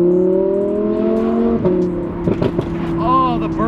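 Sports car with an FI aftermarket exhaust, a V10, revving with loud, snappy burbles and pops over a steady idle drone, sharp crackles clustering in the middle and a rising rev near the end, close by.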